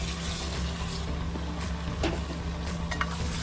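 Garlic and sliced jalapeno fry in a pan with a steady close sizzle, and a few light stirring scrapes come through near the end.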